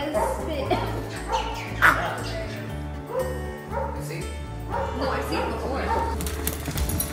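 Repeated excited dog barks and yips, close by, with people talking and exclaiming over them.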